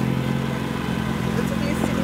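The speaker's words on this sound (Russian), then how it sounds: "О, мотоциклист!" A motorcycle goes by on a road in Belarus, its steady mid-pitched engine drone loud and continuous throughout, with a slight rise near the end and a voice talking over it.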